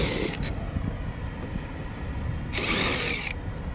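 A power tool bursts in two short whirring runs as car headlights are unbolted, close and loud over a continuous low background rumble.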